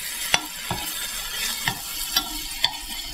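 Plantain mixture cooking in a pan, stirred in about five separate scrapes spaced under half a second to a second apart, each a short sharp scratch over a steady soft sizzle, close and alone with no talk.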